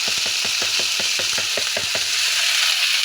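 Kangkong stirred in a hot pan for adobong kangkong gives a steady oily sizzle, with a quick run of about a dozen rhythmic scraping strokes in the first two seconds, then continuous frying hiss, close and fairly loud.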